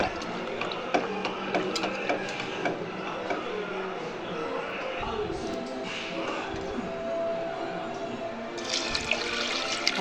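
Water splashing and pouring steadily into a pot on the stove for sambar, with kitchen clatter and a voice speaking over it.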